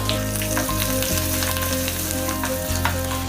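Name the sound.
garlic frying in oil for gongura pickle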